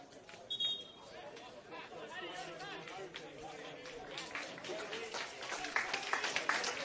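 Crowd at a St George FC v Sydney United 58 FC NPL men's football match claps and murmurs as a late substitute leaves, steady moderate applause mixed with crowd chatter, with a commentator talking over it.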